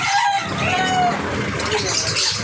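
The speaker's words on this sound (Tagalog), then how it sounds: "Ayan po ang pagbababa ng manok." Chickens cluck and squawk loudly and continuously at close range as freshly arrived birds are unloaded, with a steady chorus of overlapping calls.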